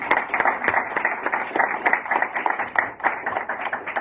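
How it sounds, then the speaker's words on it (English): A room of people at a workforce development course graduation ceremony gives a round of applause, a steady patter of many hands clapping together for a few seconds. "So Carlos, I just want to give you a big massive round of applause."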